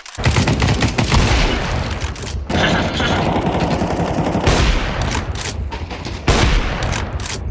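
Rapid, dense bursts of automatic gunfire and explosions from Counter-Strike 2, loud and nearly continuous with brief pauses.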